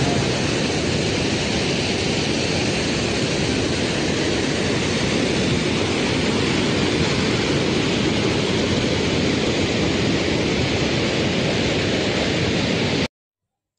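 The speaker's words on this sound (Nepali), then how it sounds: "त्यो झरना" A waterfall near the first suspension bridge on the North Annapurna Base Camp trek in Nepal roars steadily and loudly, a dense, unbroken rush of falling water that fills the whole clip with no voices.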